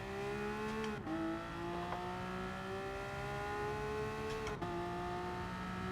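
A race car in GT Sport drones with a loud, steady engine tone that climbs gradually through the gears, with two sharp gear-change dips and no talking.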